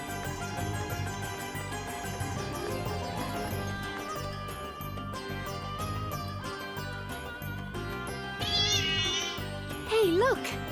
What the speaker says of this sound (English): That's got to be the cat the shopkeeper was talking about, no?